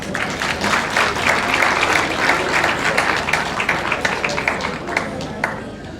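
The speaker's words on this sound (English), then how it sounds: "Another big round of applause for Jessica for coming here tonight" Sustained audience applause at a Krishna Janmashtami evening event, dense steady clapping from a full room lasting throughout, with a few sharper individual claps standing out near the end.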